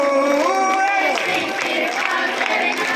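Audience clapping along to devotional bhajan singing at a Shree Shyam jagran in Sisana: sustained sung melody with a steady crowd wash and rhythmic clapping, continuous and fairly loud throughout.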